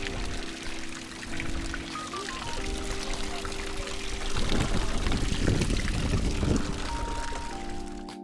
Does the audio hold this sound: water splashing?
yes